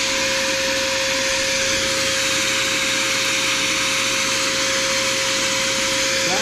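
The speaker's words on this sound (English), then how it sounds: "It's definitely not my vacuum." An As Seen On TV vacuum cleaner runs continuously, a loud, steady whining drone with a constant motor tone, close and uninterrupted throughout.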